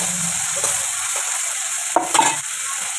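Large fish pieces dropped into hot oil in a pan, giving a steady close sizzle with a brief louder spatter and stirring clatter midway, no voices.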